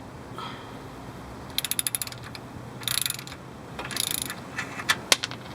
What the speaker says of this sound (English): we get a socket and a ratchet